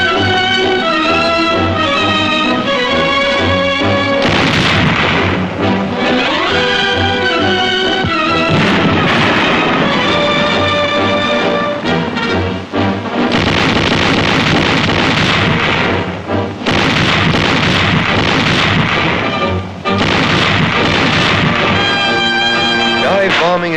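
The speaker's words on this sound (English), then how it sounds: "artillery batteries stand off to subject the fortress city to intensive heavy bombardment" Heavy artillery bombardment of the fortress city of Naha during the Battle of Okinawa, dense, loud and continuous booming barrage layered with swelling orchestral music, with no gap over nearly half a minute.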